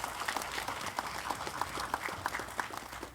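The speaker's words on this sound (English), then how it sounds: "Let's give them a round of applause." Audience applause at the 14th Belize International Film Festival, a steady patter of many hands clapping throughout at moderate, slightly distant level, with no clear voices over it.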